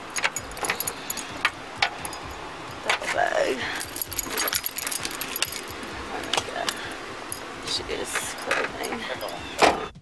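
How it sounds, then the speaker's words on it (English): Metal keys jangle and clink during a police handover beside a car, with rattling bursts scattered through the stretch, a door sound among them and voices talking throughout. "There you go, keys."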